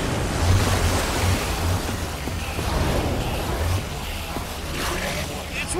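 Water gushes in Minecraft Story Mode, a steady loud rush and roar of surging water filling the scene for several seconds, with faint game sounds toward the end.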